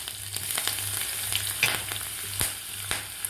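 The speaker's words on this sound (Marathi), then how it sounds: "तेल मी कडकडीत गरम करून घेतलेलं आहे। आता यामध्ये घालायची आपल्याला मोहरी, जिरे, कापून घेतलेली हिरवी मिरची," Mustard seeds, cumin, cut green chili and garlic crackle and sizzle in very hot oil for a Maharashtrian tempering, a steady close frying hiss broken by sharp pops and spits.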